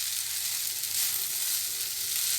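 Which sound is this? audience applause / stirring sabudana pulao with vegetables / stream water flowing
stirring sabudana pulao with vegetables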